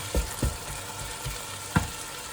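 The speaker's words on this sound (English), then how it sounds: "I'll just gonna put the lid on this just for a few minutes. Just soften them onions down a bit." Onions softening in a frying pan under a lid, a low steady sizzle with a few soft knocks and bumps from the pan or lid, close up and with no talk.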